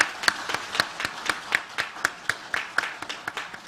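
A church congregation claps together in a steady, even rhythm of sharp beats about four per second, fairly close and continuous throughout.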